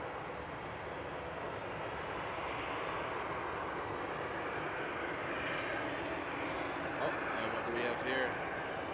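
Edelweiss heavy airliner at Frankfurt Airport at night, a sustained broad jet engine roar at moderate distance, even and unbroken, with faint background sounds near the end.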